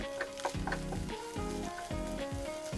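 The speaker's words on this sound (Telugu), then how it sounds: "గుడ్డు అయితే వేగుతుందండి." An egg frying in a pan for an egg fried Maggi noodle dish, giving a steady, close, soft sizzle that carries on without talk.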